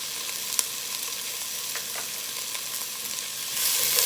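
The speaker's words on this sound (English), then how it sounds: "Now I will add paprika and some cumin powder" Paprika and cumin powder sizzle steadily in a hot frying pan for a bell pepper soup base, a constant bright hiss with faint scrapes, growing a little louder near the end.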